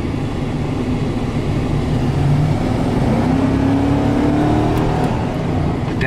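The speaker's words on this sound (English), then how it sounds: "The downshift is great." A 2000 Chevy C2500 pickup with a Gear Vendors overdrive downshifts on the road, a steady, loud engine drone whose pitch drops and then climbs again as it pulls through the gear change.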